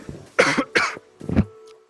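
A person coughs three times in quick succession, close and clear, during a game-development livestream, with a faint tonal hum underneath.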